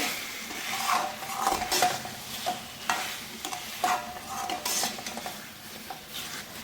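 A spicy pepper chicken fry is stirred in a pan, with a spoon repeatedly scraping and clinking against the metal over a steady background sizzle. There is no talk.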